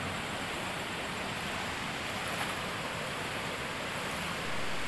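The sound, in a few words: river water flowing in Aceh mountains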